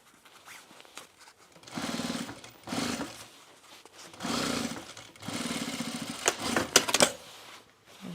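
A sewing machine stitches the shoulder seam of a bomber jacket in several bursts of rapid mechanical chatter with short pauses between them, close and moderately loud. A few sharp clicks come near the end.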